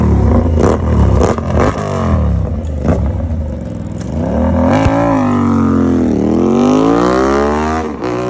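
An Aprilia RS 457 motorcycle fitted with an Arrow exhaust revs loudly up close, its engine note climbing, falling and surging again through several throttle blips, with no talking.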